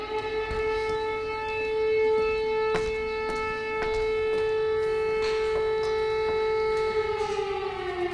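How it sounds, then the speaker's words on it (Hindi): Air raid sirens wailing over Kyiv during Russian attacks, a steady sustained tone holding for several seconds, with a slight rise and fall and no voices. "आखिर किस तरीके से वहां पर लगातार सायरन बज रहे हैं।"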